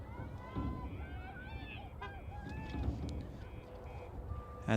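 A car alarm goes off near a field during a girls' high school soccer match, its wavering electronic tones repeating in the distance beneath a commentator's voice and crowd noise.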